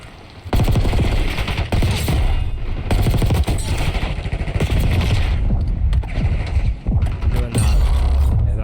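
Call of Duty gameplay gunfire: loud, rapid automatic bursts come in long strings separated by brief pauses, with mechanical clatter between the shots.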